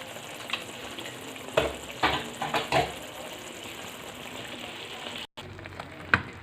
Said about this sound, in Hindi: और ये पिसा हुआ सूखा धनिया जा रहा है जी।